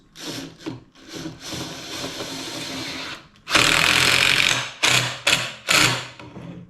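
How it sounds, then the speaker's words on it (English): Kreg 1.25-inch coarse-thread pocket hole screws driven into oak with a power driver, in a woodshop. A long steady whir comes first, then several short, loud bursts follow one another, with no talking. "now I'm gonna go ahead and put some of these screws in"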